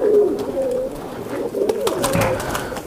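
A Lakha breed high flyer pigeon coos close by in several soft, throaty phrases, with a brief pause midway and faint background noise.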